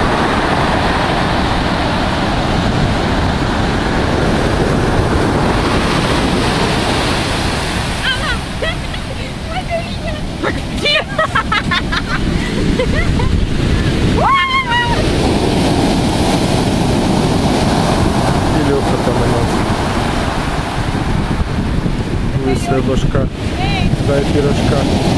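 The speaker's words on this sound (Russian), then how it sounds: "Где-то метра 4 идет волна." Stormy sea waves about four metres high crash and roar at Sukhum, a continuous loud wash of surf buffeted by heavy wind noise, with people talking faintly beneath it.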